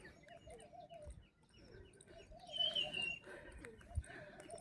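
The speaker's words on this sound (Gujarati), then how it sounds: "તો તમે સાંભળી રહ્યા છો પક્ષીનો અવાજ પણ સુંદર મજાનો થઈ રહ્યો છે।" Faint birds chirp and call intermittently on a quiet village morning in the hills, with one clearer trilling call midway.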